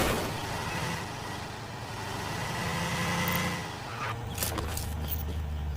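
A car engine drones at mid pitch while driving in a battle royale game, a steady hum that swells slightly and rises near the end, with faint game noise over it and no talk.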